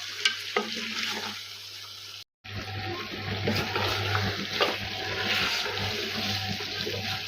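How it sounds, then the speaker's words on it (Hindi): Mutton fries with yogurt in a karahi, a loud continuous sizzle and bubbling hiss that cuts out briefly and then returns even stronger, with stirring scrapes mixed in. "अब हम इसमें ऐड करेंगे 1 कप दही, भी डालकर हमने 5 मिनट भून लेना है।"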